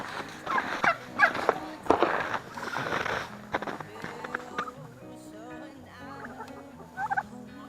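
Turkeys on a farm gobble in noisy bursts early on, mixed with other fowl sounds and loose background chatter, then quieter bird calls continue under faint talk.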